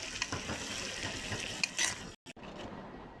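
Food sizzling and frying in a pan with Bombay chili added, a steady hiss with occasional stirring scrapes, ending in a brief sharp cutoff and a quieter tail.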